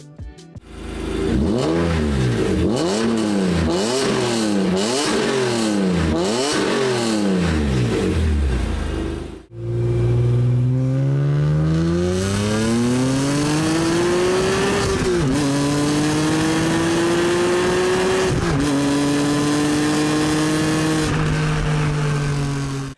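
A BMW E46 M3 engine revs up and down repeatedly in quick bursts, then pulls through long rising accelerations with gear shifts, loud and close.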